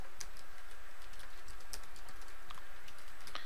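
Several sharp key presses on a computer keyboard, including the Tab key, during spreadsheet data entry; scattered clicks over a quiet room background with no voices.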